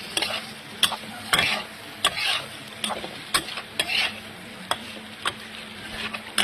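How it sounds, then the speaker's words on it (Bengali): Shrimp sautéing in a pan for Bengali malai curry with garam masala and chili-cumin powder, a steady close sizzle broken by repeated sharp scrapes and stirs of a utensil against the pan, no voices. "এবার আমি চিংড়িগুলো দিয়ে দেব। চিংড়িগুলো হালকা একটু কষাতে থাকবো।"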